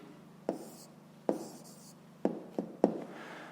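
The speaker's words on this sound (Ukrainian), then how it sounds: "Пишемо відповідь." Pen or pencil taps and short strokes on paper as a fifth-grade math answer on comparing decimals is written by hand, five distinct close ticks spread unevenly over a quiet background.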